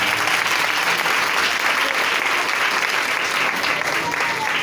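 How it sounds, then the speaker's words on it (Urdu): A church congregation at a convention gives a loud round of applause for the Lord, dense steady clapping from many hands filling the room throughout. "آئیے خداوند کے لیے زوردار تالی"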